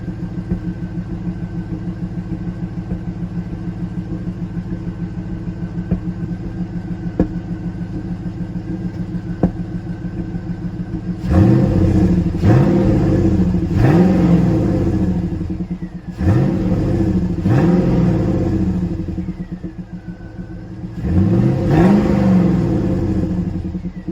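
1998 Pontiac Trans Am V8 engine running after fuel injector cleaning, idling steadily for several seconds, then revved repeatedly in loud surging bursts that fall back to idle between throttle blips.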